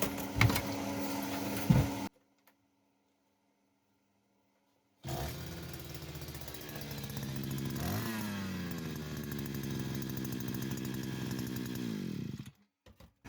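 A Chinese-made petrol brush cutter runs briefly, cuts out into near silence, then restarts and holds a steady, buzzy two-stroke idle set somewhat high, with a slight rise in pitch before it stops.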